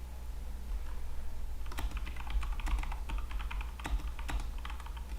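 Clicky computer keyboard keys are typed in short, uneven bursts close to the microphone over a low steady hum, with no one talking.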